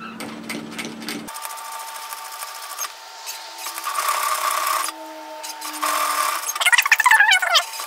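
A sewing machine stitches a woven-fabric cape downward from the centre-front neckline, giving a sustained mechanical hum with rising and falling bursts and a rougher, busier patch near the end, after a few short taps at the start.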